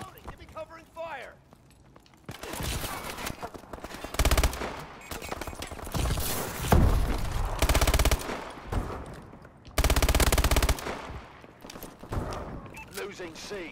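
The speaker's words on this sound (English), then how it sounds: "Reloading, give me covering fire." Covering gunfire in a multiplayer shooter game rattles out in several sharp automatic bursts, loud and close, between quieter gaps with scattered shots and faint voices in the mix.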